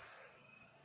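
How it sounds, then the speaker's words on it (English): Crickets chirp at night in the Philippines, a steady, dense high-pitched trill running unbroken and fairly loud throughout, with no voices. "it is night time, and you can hear the crickets"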